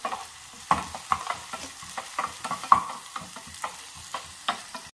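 Curry leaves dropped into a hot mustard seed and shallot tempering, giving a string of crackling pops and spits that come close, steady and irregular over a low background sizzle, with no talk.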